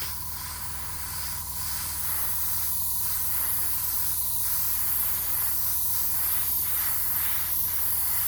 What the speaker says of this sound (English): just pull the airbrush out there, it's just got a bit stuck